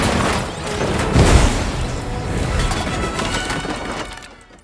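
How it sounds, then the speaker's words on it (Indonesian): A loud explosion with a flash of light in an animated film, a sustained rumbling blast that swells and then fades out over a few seconds. "Tiba-tiba terjadilah sebuah ledakan yang disertai dengan sebuah cahaya yang menyinari seluruh"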